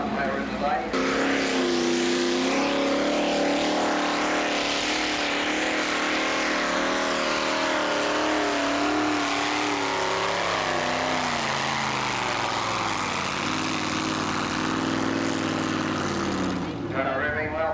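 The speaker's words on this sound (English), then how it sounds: "Got her revving well there." A tractor engine in a 1986 tractor pull, 4.2 class, drones loud and continuous for the whole stretch, its pitch wavering as it labours and revs, with faint voices underneath.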